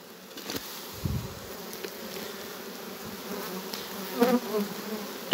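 Honeybees buzzing steadily around beehives at an apiary during a honey harvest, a close, continuous hum with a few louder passes by individual bees.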